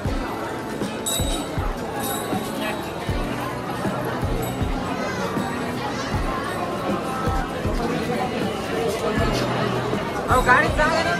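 Sunday crowd at the Shirdi Sai Baba temple: steady dense babble of many voices with scattered footsteps and thumps, a continuous busy hubbub throughout with a nearby voice occasionally standing out.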